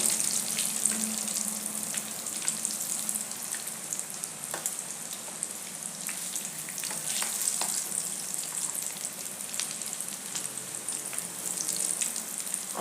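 Leftover-rice cutlets packed with vegetables fry in oil in a pan, a steady close sizzle with soft crackles running throughout, no talk.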